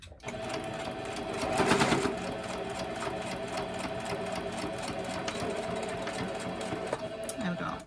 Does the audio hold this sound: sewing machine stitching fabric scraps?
yes